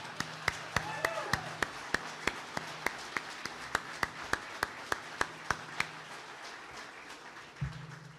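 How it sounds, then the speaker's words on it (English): Sharp individual claps ring out at a steady, roughly regular pace at a soccer team announcement event, each hand strike distinct and crisp against a low background murmur, ending with a dull thump. "I want to clap for that."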